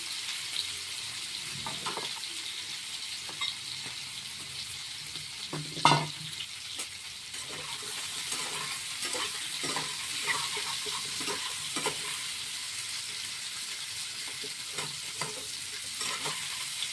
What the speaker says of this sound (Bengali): এগুলো একটু ভাজা হতে হচ্ছে